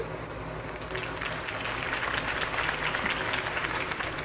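A crowd applauds steadily after a campaign speech in the Batman Telltale Series game, a dense, continuous wash of clapping that swells slightly and holds throughout.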